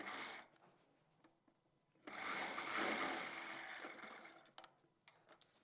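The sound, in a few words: sewing machine stitching velvet chudidar pajama seam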